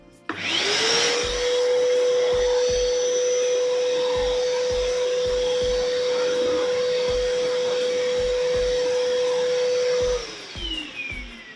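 An iMAX 1600 W vacuum cleaner running in blower mode to blow dust, spinning up into a loud, steady whine and roar that holds for about ten seconds before winding down, with soft thumps underneath.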